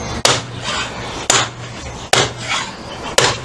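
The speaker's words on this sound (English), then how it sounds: "this is a lump hammer that's quite big enough" A big lump hammer pounds a metal part on a Kawasaki Z650/1170 motorcycle project, four heavy, evenly spaced clanging blows, close and loud with nothing else over them.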